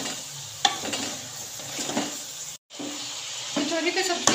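Tori (ridge gourd) vegetables with green chillies are stirred in a hot pan, a steady sizzle and hiss with scraping stir strokes up close and one brief gap.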